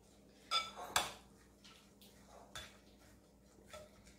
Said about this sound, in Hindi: अच्छी तरह से मिक्स कर दूं।